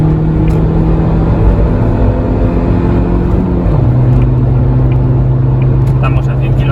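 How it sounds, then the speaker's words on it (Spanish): A car on new Yokohama tyres accelerates hard on a motorway, its engine droning loudly and steadily with a rising pitch that drops at a gear change to third, then keeps climbing. "vamos a pisar a fondo acelerador, cambiamos a tercera"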